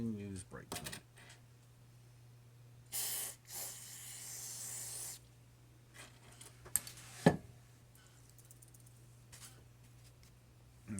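Brake cleaner sprays onto the internal motor parts of a Hunter Original ceiling fan, several hissing bursts of a few seconds each, the longest around the middle, against a steady low hum with a few sharp clicks.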